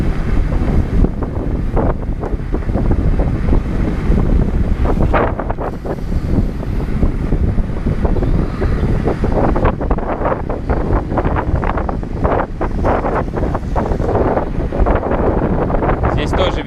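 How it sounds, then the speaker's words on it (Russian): Steady, loud headwind buffeting the microphone while riding a homemade electric bike built from a generator, a constant roaring rush throughout with occasional thumps and a voice speaking over it. "Тоже ветер встречный"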